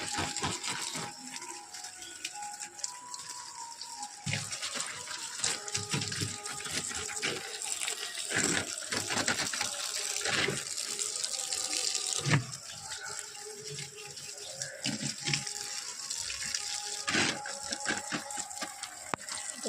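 Water poured gently onto a home garden bed of young red amaranth and spinach plants, a steady soft splashing and trickling that continues for about twenty seconds at close range, with no one talking.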